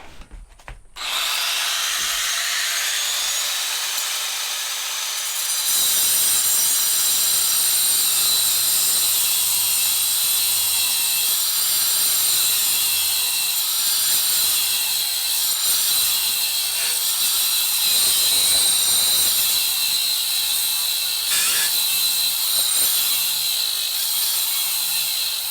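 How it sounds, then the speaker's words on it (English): An angle grinder cuts through the mounting bolts of seats inside a school bus, a loud steady high-pitched whine running almost continuously after a brief start, with metallic grinding texture and no talk. "I think we got to get the angle grinder out."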